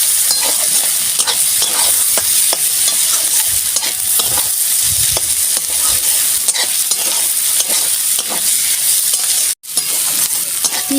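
Onions frying in a pan while being stirred, with a steady loud sizzle and regular scraping strokes throughout, briefly cut near the end, no voices.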